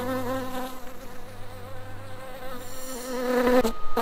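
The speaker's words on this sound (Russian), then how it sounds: "Я слышу, как она жужжит в нашей медовой ловушке." A bee buzzes continuously inside a honey trap, a close, droning hum that wavers in pitch and grows louder toward the end.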